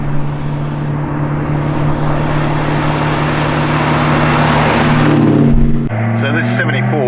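A restored 1974 Holden HQ Kingswood ute with a factory 253 V8 and four-speed manual drives along. Its engine gives a loud, steady droning hum that swells slightly before easing off near the end, with talking over it.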